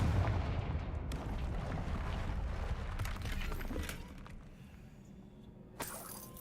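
Blasting-spell explosion in a wizard video game: a loud, dense rumbling blast that rolls on for several seconds, fading slightly, then a sharp crackling burst near the end.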